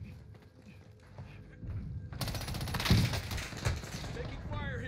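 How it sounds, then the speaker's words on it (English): Automatic gunfire in a Call of Duty: Warzone match, a dense rattling burst that opens partway through and runs on loudly with heavy thumps, while players talk over it. "Taking fire here."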